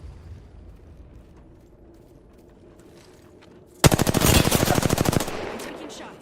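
Rapid automatic gunfire in Apex Legends erupts after a quiet stretch of low game ambience, a loud, dense burst of evenly spaced shots lasting over a second before tapering into softer background noise.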